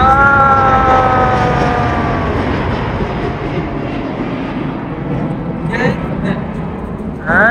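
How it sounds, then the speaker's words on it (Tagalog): A large airplane, the biggest at the airport in Greenland, roars as it takes off, a loud, sustained broadband engine rumble with a falling whine at the start that slowly fades. Some talk sits beneath it. "Ayan na mga kabayan, umpisa na lilipad yung eroplano ng"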